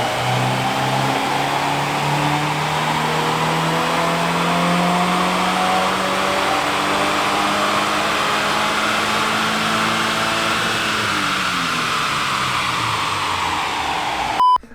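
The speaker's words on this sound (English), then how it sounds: "let's see what this car does on the dyno" A stock VA Subaru WRX on a chassis dyno winds up steadily through a long pull, a loud sustained engine and drivetrain drone that climbs in pitch before cutting off abruptly at the end.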